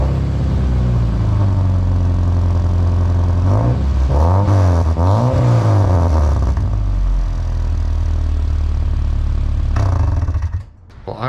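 A high-mileage Subaru with a straight pipe, glass pack and cheap muffler replacing a broken, rusty exhaust idles with a deep rumble, then revs up twice before settling back to a steady, loud drone.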